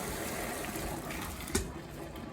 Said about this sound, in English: I'm going to drain the spaghetti, get all that water away.